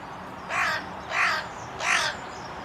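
Three loud caws from crows, evenly spaced about two-thirds of a second apart, ring out clearly over a soft outdoor background hiss with no voices.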